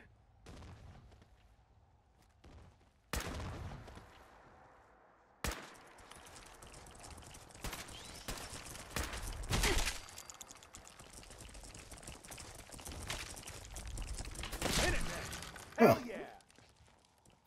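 Gunfire in the video game Fallout 4, several sharp broadband shots and bursts spread across the passage over a dense bed of game sound, with a voice talking in between.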